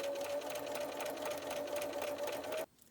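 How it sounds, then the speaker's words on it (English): A sewing machine runs steadily at speed, chain piecing quilt blocks with a rapid even stitching whir, close and alone, then stops abruptly near the end. "Chain piecing is a technique where you keep sewing off the edge a few stitches, and then you start sewing the next one without cutting the thread between."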